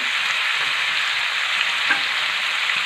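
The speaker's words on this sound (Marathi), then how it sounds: "तेल छान तापलं त्यामध्ये आपल्याला बारीक चिरून घेतलेला कांदा घालून घ्यायचा" Finely chopped onion fries in hot oil on a griddle for egg bhurji, a loud, steady, dense hiss of sizzling that continues without break.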